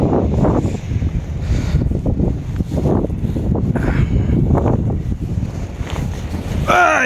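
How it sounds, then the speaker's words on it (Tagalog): Strong wind during a winter storm in Canada buffets the microphone in a steady, loud low roar at a snowy bus stop, with gusts rising and falling and a brief higher whine near the end. "lakas ng hangin no."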